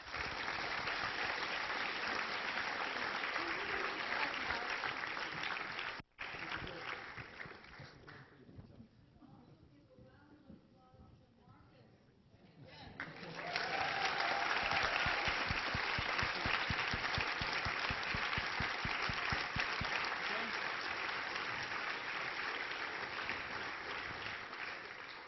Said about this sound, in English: we'll have one more round of applause